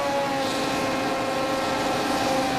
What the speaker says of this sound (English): Engine revs rise.